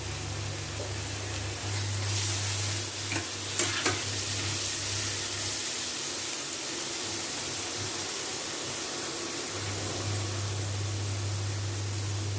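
Steady broadband sizzle of onions frying in a pan, with a low hum and brief stirring clatter partway through; no voices.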